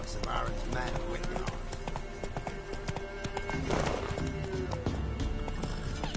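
Rapid clip-clop of the horse Roach galloping in The Witcher 3, a steady drumming of hooves with a brief whinny, while a voice talks over it.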